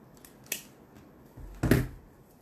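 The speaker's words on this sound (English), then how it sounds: "giving the pipe cleaners a little trim" Scissors snip through pipe cleaners with a few short, crisp clicks, one faint cut followed by a louder, closer snip, in otherwise quiet surroundings.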